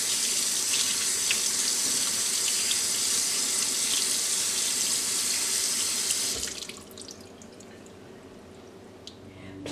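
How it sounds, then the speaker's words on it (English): Cold tap water runs over salted pollock fillets in a kitchen sink, a loud, steady splashing rush for about six seconds before it drops to a softer trickle and drips. "Rinse the pollock fillets with cold water to eliminate the excess salt."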